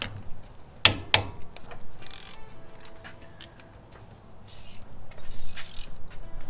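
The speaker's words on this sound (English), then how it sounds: "let me go grab the torque wrench. And torque the upper ball joint" A torque wrench tightens a new upper ball joint nut on a Toyota/Lexus upper control arm, giving two sharp close clicks followed by quieter ratcheting and mechanical handling sounds in a garage.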